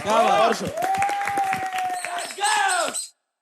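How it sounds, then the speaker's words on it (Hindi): Contestants at a reality game show grand finale clap together while loud voices shout and whoop over the applause, which stops abruptly after about three seconds. "अपने खुद के लिए ताली बजाओ यार"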